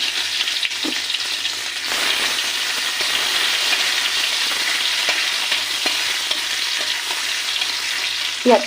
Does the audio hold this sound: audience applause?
no